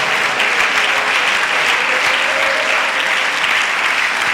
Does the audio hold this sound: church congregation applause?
yes